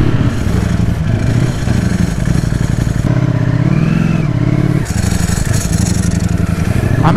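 A Ducati StreetFighter V4 SP with a dry clutch rides past very loudly and close, its engine roaring continuously with rising and falling revs and a brief dip during a shift, and wind noise throughout.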